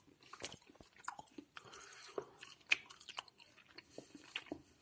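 Candied dried mango is chewed close to the microphone, producing soft, irregular crunching bites and wet chewing over a quiet room.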